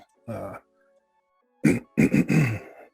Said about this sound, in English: I just got to clear my throat a little bit